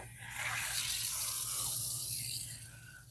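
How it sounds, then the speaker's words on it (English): Water from a garden spigot pours over a newly planted summer garden bed, a soft steady hiss and splatter swelling and easing over a few seconds, with a low hum underneath. "So I'm going to go ahead and water these in."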